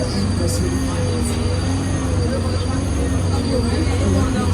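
Runaway train attraction on the Universal Studios Hollywood studio tour, heard as a steady, loud rail rumble with low mechanical hum and faint metallic squeal running throughout.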